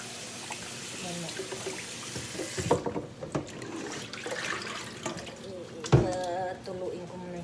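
Water pours and trickles through a kitchen strainer while chicken is washed, splashing into a sink with a couple of sharper splashes, moderately close, with faint voices in the background.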